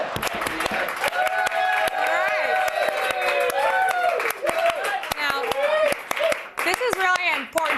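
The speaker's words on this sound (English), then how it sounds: "I didn't already stop clapping. I'm sorry." Rhythmic clapping from several people, with lively voices talking and calling out over it throughout.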